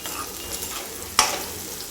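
Green chillies fry in a pan for chow chow bath, a steady broadband sizzle with one sharp clatter of stirring partway through; no voices.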